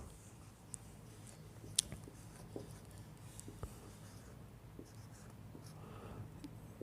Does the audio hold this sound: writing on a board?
yes